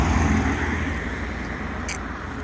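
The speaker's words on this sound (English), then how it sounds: "I can't even cross this road because there's that many bloody cars coming up the hill" Cars climbing a hill on a busy road, a steady loud roar of engines and tyres close by with continuous traffic and no gaps.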